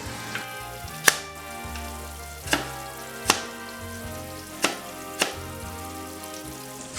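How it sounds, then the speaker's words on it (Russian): Meat frying in a kazan for Bukharian Jewish plov, a steady close sizzle that hisses continuously, broken by periodic sharp clanks and scrapes of a utensil against the pot. "Пока мясо жарится"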